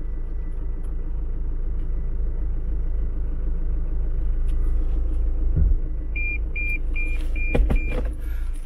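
A pearl-white 2024 Toyota Fortuner Legender 2.4 AT with automatic transmission rolls into position, its engine a steady, loud low rumble. Near the end a short run of evenly spaced electronic beeps sounds, with a couple of sharp knocks.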